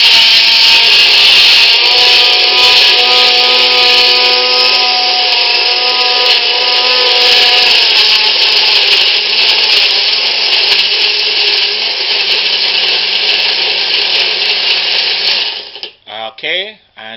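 A blender whirs through an oatmeal almond protein smoothie, a loud steady motor grind with shifting pitch that runs continuously for about fifteen seconds before cutting off abruptly with a few sputters.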